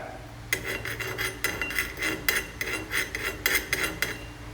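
Chilli, turmeric and coriander powders being stirred in a pan for prawn masala curry, a series of rhythmic metal spoon scrapes and clinks against the pan, close and fairly loud, with no talk.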